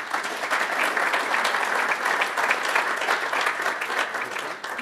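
A conference audience applauds to welcome speaker Bob Byrne, a dense, even wash of clapping that holds steady throughout and eases only slightly at the end.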